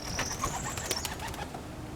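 Racing pigeons in a loft coo softly and nearby, along with a few short chirps over a low, steady background.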